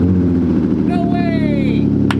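A Dodge Avenger fires up after sitting through the winter, its engine rumbling loudly and steadily up close while a person speaks over it.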